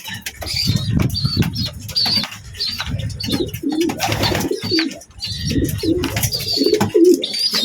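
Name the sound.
pigeon chicks pecking, flapping and cooing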